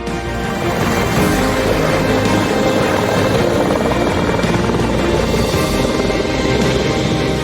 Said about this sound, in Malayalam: ബോൾഗാട്ടി ഗ്രാൻഡ് ഹയാത്തിലെ ഹെലിപ്പാഡിൽ ഹൃദയവുമായി ഹെലികോപ്റ്റർ അതിവേഗം പറന്നിറങ്ങി